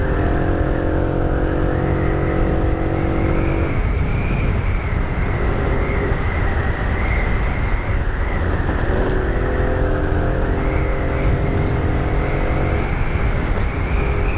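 A Yamaha Neo 125 scooter's small engine buzzes loud and close under riding, holding a steady high whine with shifts in pitch as the throttle changes, wind rush mixed in throughout.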